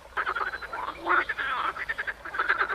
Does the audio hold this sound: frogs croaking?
yes